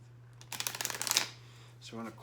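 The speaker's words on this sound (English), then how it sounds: "let's start shuffling" Tarot cards are riffled in one quick, crisp flurry of rapid flicks lasting under a second, close and fairly loud, followed by a brief bit of voice.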